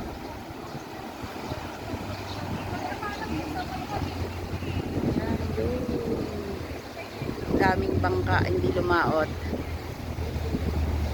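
Steady wind buffets the microphone at a seaside boardwalk in Sabang, Cabugao, Ilocos Sur, on a day of rough, wavy sea. The roar holds loud and constant throughout while people talk over it.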